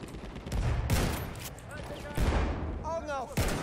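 Gunfire in the video game Battlefield 1, several heavy bursts and single booming shots spaced across the stretch, close and loud, with players talking over the game sound.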